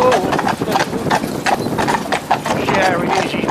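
Friesian horse hooves clip-clop in a steady, close rhythm as the horse pulls a cart, with someone talking over the hoofbeats throughout.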